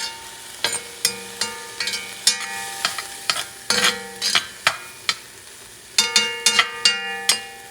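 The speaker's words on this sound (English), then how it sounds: "Yellow onion. Going to caramelize this baby." Yellow onion cooking in a pan over a soft sizzle, with repeated sharp clinks and scrapes of a utensil against the pan at an uneven pace, close by and with no talk.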